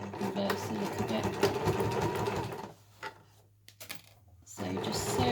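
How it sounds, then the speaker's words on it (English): Sewing machine running in steady bursts while stitching a square-and-cross seam to secure the handle of a fabric eco shopper bag, pausing briefly midway with a short reverse before resuming; close and loud. "now we're going to take it to the machine and we're going to sew a square with a cross through it"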